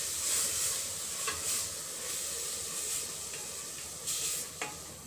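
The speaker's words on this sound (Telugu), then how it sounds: "మంచిగా వేగాలి ఇది." Onions sizzle steadily in hot oil for a chicken gravy masala, with a constant frying hiss and a few faint scrapes as they are stirred, close and without voices.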